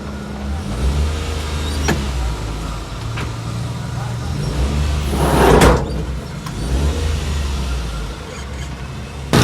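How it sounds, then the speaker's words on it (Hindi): A 2016 Daihatsu Hijet small van's engine, freshly serviced and tuned, idles and revs close by, with a brief whoosh as it drives off the workshop, and people talking faintly in the background. "गाड़ी को वर्कशॉप से उतारते हैं।"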